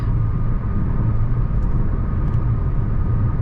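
A Hyundai Alcazar 1.5 turbo petrol with a DCT gearbox cruises on the highway at 90 km/h and 1600 RPM, giving a steady, even drone of engine and road noise inside the cabin that holds unchanged throughout.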